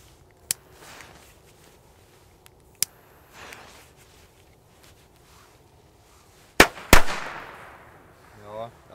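Harzer Teufelsknaller firecrackers by Vego go off outdoors as a few sharp isolated bangs, two small cracks early, then two loud close blasts near the end.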